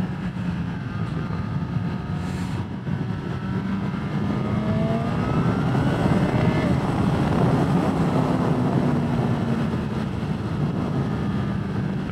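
Engine of a Honda Hornet 1000 motorcycle with a valved exhaust, a steady droning ride-by roar that holds a constant level with slight pitch shifts throughout, no talk.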